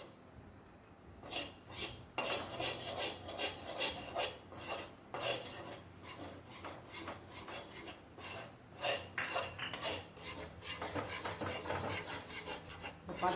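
A spoon scrapes and stirs gram flour roasting in plenty of ghee in a pan, a steady close rasping and rubbing with soft gritty strokes, fairly quiet throughout.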